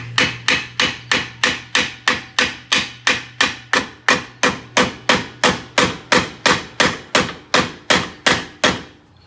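Hammer blows strike a rusty rear wheel hub assembly on a GM Enclave, Traverse or Acadia, about twenty-five loud, evenly spaced metallic hits in a steady rhythm, close up, with no talk.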